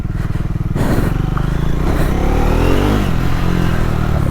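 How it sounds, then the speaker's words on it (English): Triumph Scrambler 400 motorcycle ridden off-road, its engine droning loud and close with steady rising revs and rattling clatter from the bouncy suspension over rough ground. "this motorcycle is not meant to do hardcore stuff like this"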